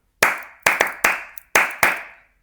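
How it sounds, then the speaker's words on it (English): A teacher in a classroom claps a short rhythm of six crisp, close hand claps with uneven spacing, each ringing briefly in the room before the next. "Or I clap a bit of a rhythm"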